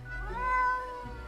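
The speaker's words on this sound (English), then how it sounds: "the cat answers with a meow of uncertainty" A cat meows once in the video game Death and Taxes, a single drawn-out, wavering mew heard alone and fairly close.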